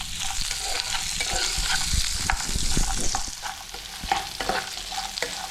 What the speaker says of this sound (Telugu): కొంచెం కొబ్బరి ముక్కలు కూడా కొంచెం వేపుదాం, బాగుంటుంది.